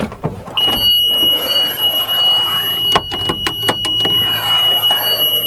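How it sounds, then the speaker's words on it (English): A bus emergency exit door alarm: a loud, continuous high-pitched tone rings steadily throughout, with mechanical clunks and rattles of the door latching around it. "The alarm sounds,"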